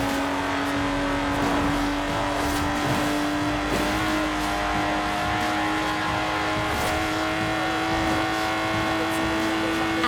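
A Lotus Exige engine in Forza Horizon 4 holds a loud, steady high-pitched drone throughout the drive, with brief tire noise over the constant whine.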